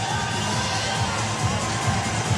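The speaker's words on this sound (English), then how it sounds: "keeps the crowd right into it" An ice hockey arena crowd at a Barrie Colts OHL home playoff game roars and cheers after the first goal, a loud, dense, sustained wall of noise with scattered shouts throughout.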